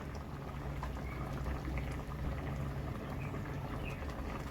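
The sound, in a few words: lentils boiling in a pot for sambar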